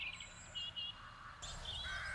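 Crows caw faintly in The Dark Eye: Chains of Satinav video game, a few short distant calls over quiet ambient background, with no other sounds prominent.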